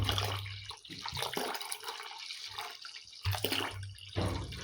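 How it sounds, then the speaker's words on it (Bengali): Cold water is poured into blended roasted mango pulp for sherbet, making a splashing, gurgling stream that surges, eases off, then swells again in a kitchen, moderately quiet, with no talking. "এবার আমি এর মধ্যে দেব ঠান্ডা পানি।"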